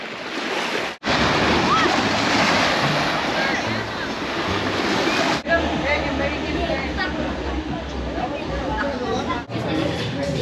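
Surf washing onto an empty beach, a broad continuous roar of breaking waves with gusty wind buffeting the microphone, close and loud throughout with brief dips.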